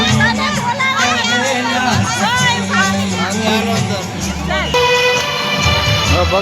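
Busy crowd hubbub of many overlapping voices and children's shouts at a lakeside in Botad on a Sunday, a steady loud babble throughout.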